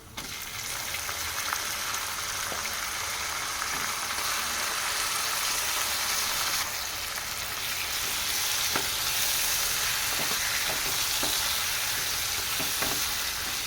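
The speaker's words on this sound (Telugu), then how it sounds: "తర్వాత చికెన్ వేసేసుకోవాలి" Chicken fries with golden-brown onions and turmeric in a pan for chilli chicken, a steady, dense sizzle heard close up, with a few sharp clicks of a spoon on the pan toward the end.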